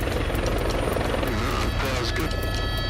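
Rescue helicopter flying on Everest, its rotor chopping steadily and loudly close by, with a voice faintly under the engine noise.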